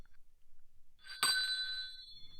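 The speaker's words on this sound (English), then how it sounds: "The sound of the bell got closer" Bell ringing in a quiet setting, a single bright struck tone that starts abruptly and rings on with a slowly fading sustain, heard alone.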